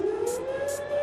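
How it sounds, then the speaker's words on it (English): At a women's rugby league match between police and defence force teams, a steady wailing half-time siren sounds in the distance, holding a rising tone over faint crowd ambience. "That is a siren in the background for half-time."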